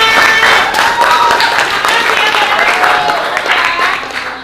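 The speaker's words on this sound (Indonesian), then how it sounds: "Terima kasih tepuk tangan." Classroom applause for a student group after its presentation, a steady wash of clapping from a room of pupils lasting several seconds, with some voices mixed in.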